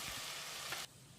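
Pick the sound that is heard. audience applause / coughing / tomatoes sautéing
tomatoes sautéing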